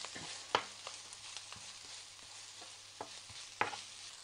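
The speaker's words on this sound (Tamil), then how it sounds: "வெங்காயத்தை நல்லா வதக்கிக்கலாம்." Onions sautéing in sesame oil for prawn pepper thokku, a quiet steady sizzle broken by a few sharp scrapes and taps of a spatula in the pan.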